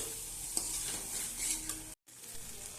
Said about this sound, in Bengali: তো এবার আমি এখানে গরম জল দিয়ে দেবো